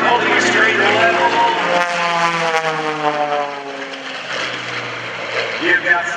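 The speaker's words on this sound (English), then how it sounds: "You've got 415 horsepower in the lead airplane. Gary Ward with 350" Loud propeller drone of aerobatic airplanes at a lakeside airshow, including a 415-horsepower lead plane, a steady, rising and shifting engine roar that stays close throughout.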